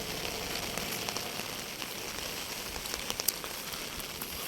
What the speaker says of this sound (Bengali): সকাল সকাল বৃষ্টি হচ্ছে, এখন কেবল 6:30 বাজে।